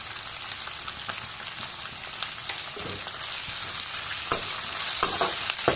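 Onions with salt fry in a pan for tamarind chitranna, giving a continuous hissing sizzle with light scattered crackles and a few sharper stirring taps near the end.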